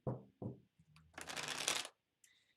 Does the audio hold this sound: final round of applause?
no